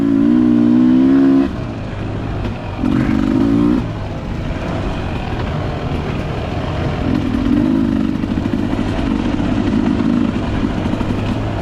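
A Beta 300RR two-stroke dirt bike rides a trail, its engine droning loudly and steadily with a few short rises in pitch as it cruises, close to the rider throughout.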